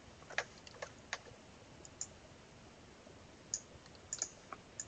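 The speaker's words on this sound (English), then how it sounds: "I'm going to type in "you win."" Typing on a computer keyboard during a Photoshop text edit: faint, sparse key clicks in small irregular bursts over a quiet room background.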